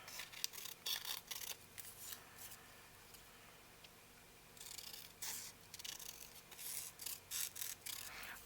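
Scissors snip through a paper sheet printed with music staff, close and quiet, with a cluster of crisp cuts, a short pause, then more steady snipping.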